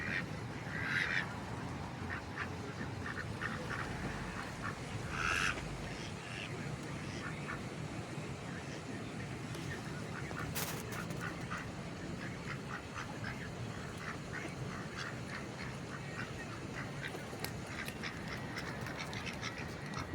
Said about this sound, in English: several different duck varieties here. And you'll have Canadian geese land here as well